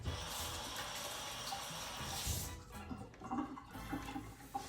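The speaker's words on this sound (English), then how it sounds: "And I just wash my hands off real quickly." Tap water runs into a sink as hands are rinsed off between handling raw steak, a steady broadband rush for about two and a half seconds before easing into softer splashes and trickles.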